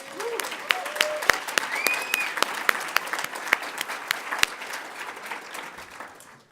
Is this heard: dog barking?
no